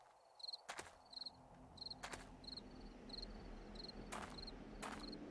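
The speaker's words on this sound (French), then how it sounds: "pas une autre sauterelle" A grasshopper creature in the survival video game 7 Days to Die gives off repeated short, high chirping bursts in an even rhythm, joined by a few sharp clicks, against a low steady background hum with no talking.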